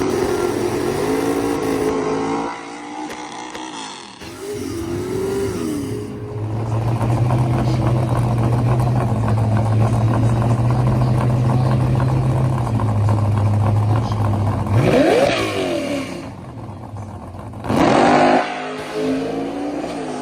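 A drag race car making a pass down the track during a drag week event, a loud engine roar holding steady before cutting off, followed by further passing engine noise and revving bursts.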